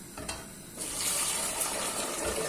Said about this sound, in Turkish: Şöyle makarnaları da süzeceğim hemen.